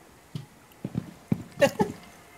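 Footsteps in the video game Rainbow Six Siege: several soft, uneven thuds close by, picking up into a quicker cluster of steps toward the end.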